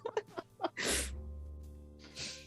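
A single loud, close sneeze bursts out abruptly after brief murmured voices, followed by a sustained low hum as the room settles.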